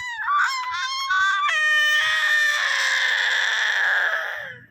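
A small child lets out a loud, drawn-out shout that starts with a few short rising cries and then becomes one long, strained yell before cutting off.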